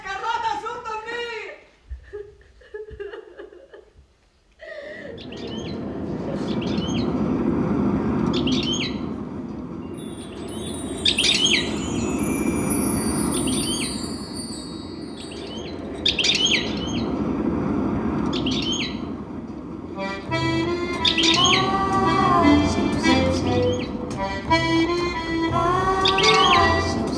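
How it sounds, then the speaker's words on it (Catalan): Birds chirp in a garden, with bright tweets and calls rising over a steady ambient hum, growing livelier toward the end, while voices speak in the background at the start. "el jardí s'ha començat a omplir d'ocells!"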